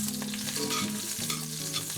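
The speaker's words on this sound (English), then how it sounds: "so it's kind of browning up the okra a little too fast" Okra sizzles loudly in a pan that is too hot and browning it quickly. The hiss and crackle of frying is steady and close, with stirring running through it and no speech.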